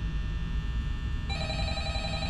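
A telephone rings in Five Nights at Freddy's, a rapid trilling bell that starts partway through and repeats over a dense, rumbling background hum.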